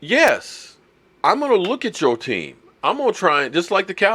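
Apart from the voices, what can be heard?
No everyday noises stand out.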